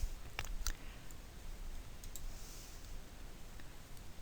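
Computer mouse clicks while adjusting a trace line in embroidery design software: a handful of sharp, close clicks, some in quick pairs, spaced irregularly over a steady low hum.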